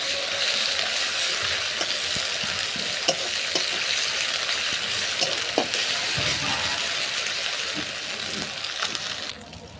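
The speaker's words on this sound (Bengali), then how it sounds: "তো আমাদের পেঁয়াজ লাল হয়ে গেছে, এবার দিয়ে দেবো আদা রসুনের পেস্ট।" Reddened onions fry with ginger-garlic paste for a chicken yogurt curry, giving a continuous loud sizzle with scattered stirring clatters and a faint voice in the background.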